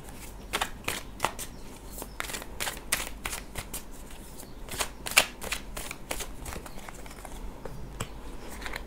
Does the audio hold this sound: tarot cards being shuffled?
yes